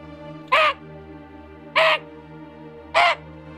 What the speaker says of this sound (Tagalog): Ang narinig natin ay huni ng isang aswang.